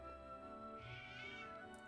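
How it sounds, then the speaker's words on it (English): A cat meows in the video game Triangle Strategy, a single drawn-out, whiny meow heard clearly over soft game music. "Kitty!"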